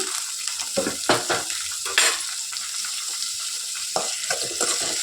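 Chopped tomatoes and onions fry in a pan with a constant sizzle, broken by several sharp clinks and stirring scrapes, close and fairly loud, with no talking.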